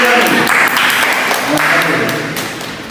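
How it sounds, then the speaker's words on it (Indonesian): Applause from a classroom audience after a student group's microteaching presentation, loud and dense, with a voice speaking over it, tapering slightly toward the end. "Tepuk tangan dulu."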